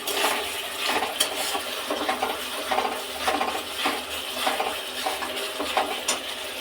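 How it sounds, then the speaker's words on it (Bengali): Spice paste sizzles in a pan while being stirred and cooked down until oil separates, with a steady broadband fry and repeated scraping strokes, fairly close, no talking. "মশলাটা ভালো মতন কষিয়ে নেব। মশলা থেকে যতক্ষণ না তেল ছাড়বে আমি ততক্ষণ একটু কষাতেই থাকবো,"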